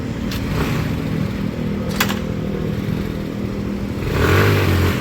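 A Yamaha Mio motorcycle bored up to 132cc idles with a steady, close engine drone, then revs up briefly near the end, the engine note rising and falling.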